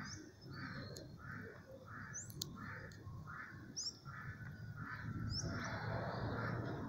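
Homing pigeons flocking outdoors, with a steady series of soft, rhythmic wingbeat-like pulses and occasional high bird calls over a constant background noise.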